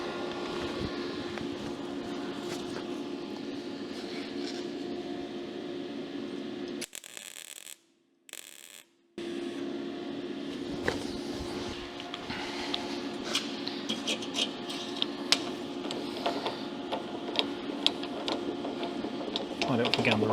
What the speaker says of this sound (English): just get the die grinder into this bottom side there and just round it out a little bit